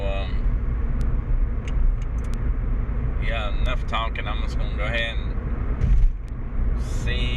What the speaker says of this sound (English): see what kind of traffic's on the road here as we're going to Walmart